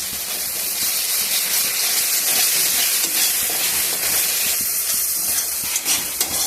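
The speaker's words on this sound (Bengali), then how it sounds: "এই মশলাটাকে একটু কষিয়ে নেব।" Spice paste with sugar and sour yogurt hisses and sizzles as it fries in a pan, stirred throughout with a few scraping bumps, close and loud with no talking.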